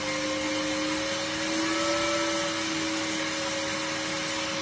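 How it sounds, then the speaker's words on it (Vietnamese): An electric fan runs on an old charger supplying 12V, giving a steady whirring drone with a pair of sustained motor tones and a constant airy hiss, no talking. "Các bạn nghe tiếng quạt nó tăng không?"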